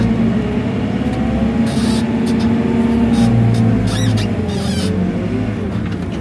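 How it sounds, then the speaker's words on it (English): A JCB 531-70 telehandler pushes a maize clamp in second gear, its engine giving a loud, steady close drone with shifting tones, overlaid by brief hiss and rustle bursts from the pile, with no talking. "let's see how the JCB 531-70 likes pushing maize"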